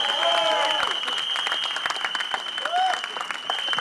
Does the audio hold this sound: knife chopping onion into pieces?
no